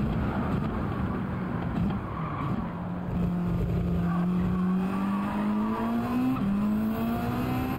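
A race car in the Gran Turismo 7 video game takes a corner, its engine tone climbing steadily under faint tire squeal, loud and continuous with no talk.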